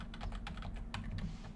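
Quick, light keystrokes on a computer keyboard, a rapid uneven patter of clicks heard close over a low steady hum, with no speech.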